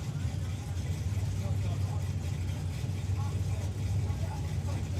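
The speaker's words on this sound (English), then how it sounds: "the Brute Force Sierra taking on the Ford van" Drag racing vehicles at a drag strip, the Brute Force Sierra running against a Ford van, heard as a steady, loud low engine roar that holds throughout with a broad noisy rumble.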